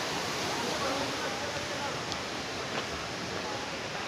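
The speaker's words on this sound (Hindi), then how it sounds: "इस झरने का पानी इधर से बहता हुआ कोसी नदी में जाके मिल जाता है।" Dhokaney waterfall near Nainital, flowing water giving a steady, broad rushing hiss that stays even throughout, with faint speech in the background.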